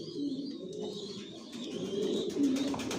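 Racing pigeons of a long-distance Janssen line coo steadily in a loft, low throaty calls rising and falling continuously over three seconds, with faint higher chirps mixed in and no talk.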